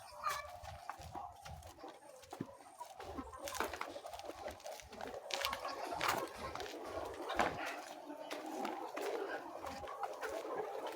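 Chickens in a poultry house on a local chicken farm, a faint, busy murmur of clucks and bird calls from many birds at a distance, steady throughout with low ambient noise.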